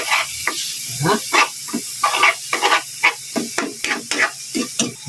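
Broccoli sautés in a pan, giving a loud, continuous hiss with rapid bursts of crackling and spattering, close up and with no talking.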